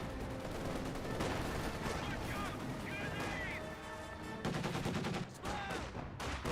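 A half-track fires on Volksgrenadiers in Company of Heroes 2, with bursts of gunfire and shots in rapid sequence over a busy battle, while a commentator talks throughout.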